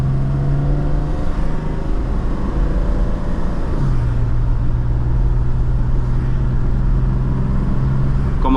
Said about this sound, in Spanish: vamos a oír el motor